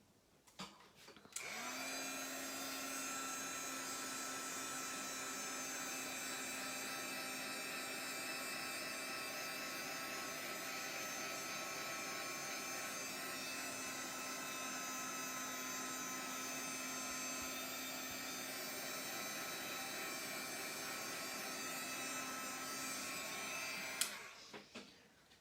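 A dryer blows steadily over Pentart finishing wax on a weathered wood craft piece, a loud, even whirring hum that starts abruptly, holds for about twenty seconds alone, then cuts off.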